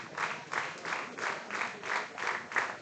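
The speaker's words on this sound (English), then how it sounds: "Get a clapping train going on in the stands here." A crowd in the stands of a baseball game claps in a steady rhythmic pattern, about three claps every second, sustained and moderately loud throughout, with no voices standing out.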